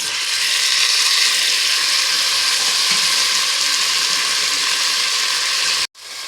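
Onions with ginger-garlic paste frying in a pan for mushroom biryani, a steady close, loud sizzle throughout that cuts out abruptly near the end before resuming briefly.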